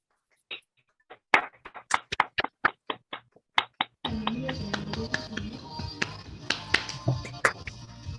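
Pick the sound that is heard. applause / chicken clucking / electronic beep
applause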